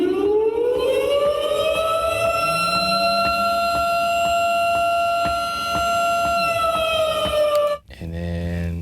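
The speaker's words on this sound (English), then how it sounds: "The next one, Tornado Siren." A tornado siren sound sample: a civil defense warning siren winds up to a steady, piercing wailing tone, loud and sustained, then stops abruptly before a short burst of another sound.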